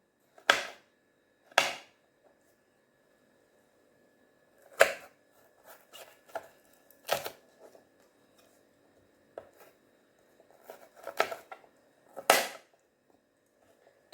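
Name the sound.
knife chopping baby corn into slices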